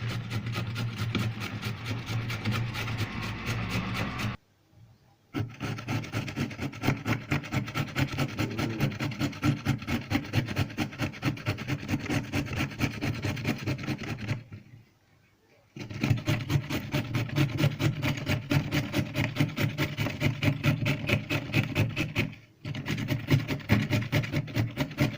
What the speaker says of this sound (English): we grate our carrots.